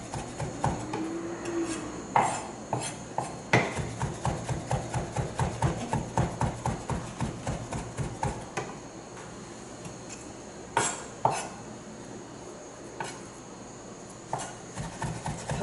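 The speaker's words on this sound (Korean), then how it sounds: "다시 끊어 썰어주고" Knife chopping and mincing ingredients on a cutting board for Korean dishes: rapid, evenly spaced close taps with a burst of quick strokes midway, then sparser single chops and scraping.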